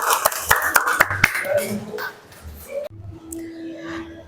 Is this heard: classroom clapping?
yes